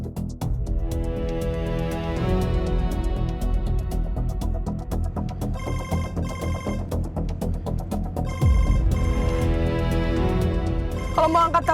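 A phone rings with a repeating electronic ringtone melody, loud and continuous across the whole stretch, with background music or noise beneath it.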